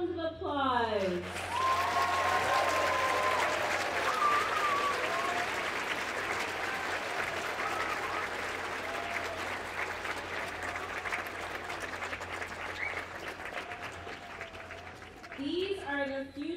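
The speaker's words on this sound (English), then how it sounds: "A round of applause." A crowd at a junior school closing ceremony applauds steadily for many seconds, a dense, even clapping that tapers slightly near the end, with a voice speaking briefly at the start and close.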